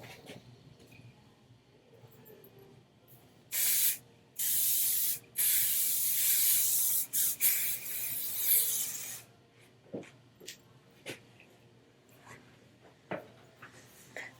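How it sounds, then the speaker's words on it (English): A hairspray can sprays onto curly hair in a few bursts, short hisses then one long continuous spray, followed by soft rustling and brushing sounds. "I will rake out my curls and spray."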